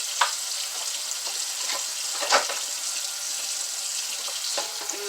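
Tomatoes rinsed under a running kitchen tap: a constant hissing water stream with small splashes and clicks as the fruit is handled, close by and without talk.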